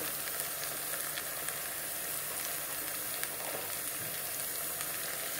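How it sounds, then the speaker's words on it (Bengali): Spices frying in oil for a katla fish curry, with turmeric, cumin and coriander powder in the pan, giving a steady close sizzle and crackle with no talk. "সব কিছু দিয়ে এখন আরও কিছু সময় ভেজে নেব।"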